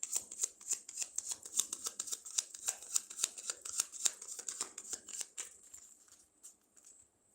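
Tarot cards being shuffled for a reading: a rapid run of crisp riffling clicks and flutters, close and steady, tapering into a few scattered taps at the end.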